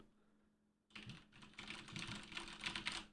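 A computer keyboard is typed on close to a microphone, with a run of quick, uneven clicking keystrokes starting after a brief near-silent pause.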